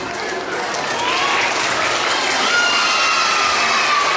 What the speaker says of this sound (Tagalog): bigyan natin sila muli ng malakas na palakpak